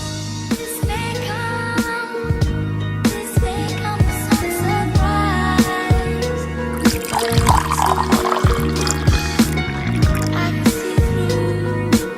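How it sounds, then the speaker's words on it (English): A drink with lime flavour is poured into a cup at home, giving a bright trickling, splashing stream that keeps running over a steady low hum with no talk. "Pour me up a cup."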